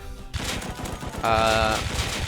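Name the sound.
LMG gunfire in the video game Rust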